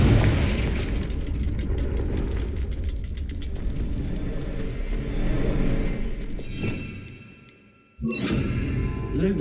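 Confringo explosion spell in the Hogwarts Legacy video game: a loud, sustained rumbling blast that swells, fades away into near silence, then bursts back with a sudden sharp crack.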